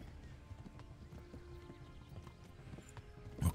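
Rapid, steady hoofbeats of a galloping horse in the video game Kingdom Come: Deliverance, fairly faint and even, ending with a louder thump and clatter.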